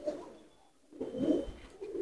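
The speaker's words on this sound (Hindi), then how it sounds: "लाजवाब कबूतर है ये" Deobandi pigeons give soft, low cooing in two bursts separated by a brief quiet pause, close by and moderately loud, with no talking over them.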